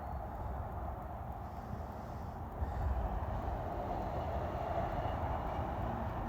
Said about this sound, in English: b711-17 eastbound local freight train.